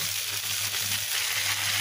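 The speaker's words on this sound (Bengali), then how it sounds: "এটাকে মশলাটাকে ভালোভাবে কষিয়ে নেব।" Spice paste frying in a pan for a Thai-style sarputi fish roast, giving a steady, close sizzle with a soft low hum underneath and no talk.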